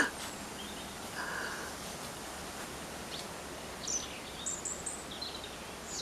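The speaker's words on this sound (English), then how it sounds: "Listen to those birds." Birds chirp and call faintly in the distance over a steady outdoor hiss, with scattered short tweets throughout.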